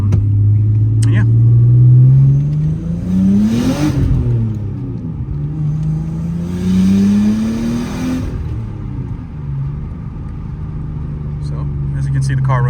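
A 1998 Nissan Skyline R34 25GTT engine revs hard, pitch climbing and dropping through gear changes as it drives off, loud and close, with a voice faintly underneath.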